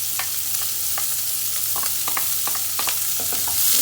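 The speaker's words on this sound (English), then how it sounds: "we're going to start sauteing the onion in there" Onion sautés in oil left from browning lamb for a lamb and vegetable soup, giving a loud, constant sizzle close by with scattered crackles and pops.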